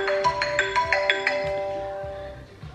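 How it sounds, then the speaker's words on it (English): Phone ringtone for an incoming call, a repeating electronic melody of bright chiming tones playing steadily and fairly close, fading slightly toward the end. "Phone call."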